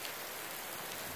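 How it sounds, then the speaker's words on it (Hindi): Heavy rain pours down in Islamabad, a dense, steady hiss of drops striking surfaces that fills the scene evenly without any voices. "यकीनन बहुत ज़बरदस्त बारिश हो रही है अभी।"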